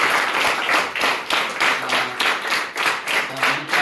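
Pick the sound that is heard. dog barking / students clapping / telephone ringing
students clapping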